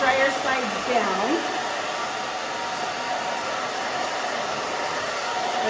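A handheld hair dryer blows on a short pixie cut with long bangs, a loud, steady close-up whoosh that holds constant throughout, with a brief pitch sweep near the start as the airflow shifts.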